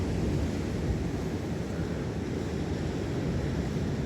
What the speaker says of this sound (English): Sound of the waves breaking.